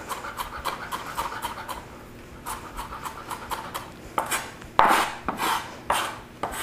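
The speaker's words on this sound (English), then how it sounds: "so cut your garlic how you want to." A kitchen knife minces garlic by hand on a board, a quick, close rhythm of light chopping taps that turns into heavier, sharper strikes toward the end, with no voices.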